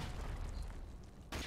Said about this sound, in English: They're already throwing flashbangs in.